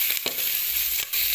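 Pork frying in oil gives a steady close hiss and sizzle with faint crackles and a few brief spatters, heard alone without speech.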